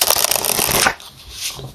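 A deck of Pining Rose Love Oracle cards by Calico Moon Oracle is shuffled in a quick, close, papery riffle for just under a second, then the sound drops to quiet room noise.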